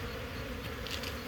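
Dense, steady buzzing of many honey bees around an open hive, close by and continuous, with no talk.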